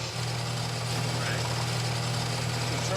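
A lathe bores out a rough pistol casting with coolant running, giving a steady mechanical hum and hiss with a low motor drone that holds throughout.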